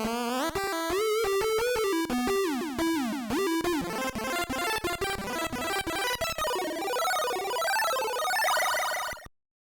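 Detuned pulse-wave channels from LSDJ on a Game Boy play a chiptune lead together, slightly out of tune with each other for a wobbling chorus effect, with fast arpeggiated notes and buzzy square tones that fill the track continuously.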